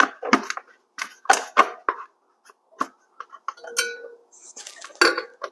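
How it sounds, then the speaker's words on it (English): Small plastic tabs click into place as a drive belt is fitted on a Husqvarna mower: a string of sharp, close clicks and light clinks in uneven bursts, with short quiet gaps between them. "this has little tab things here that you want to make sure click in."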